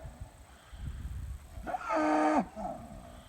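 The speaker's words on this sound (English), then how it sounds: "What are you mooing about?" A single drawn-out moo from a cow in a pasture rises over soft rustling and ground noise, close and fairly loud, lasting under a second before fading.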